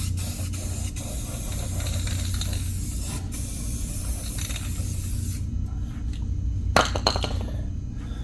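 Aerosol spray paint hisses steadily for several seconds while touching up a box van's front suspension, then stops, leaving a short clatter and a low background hum.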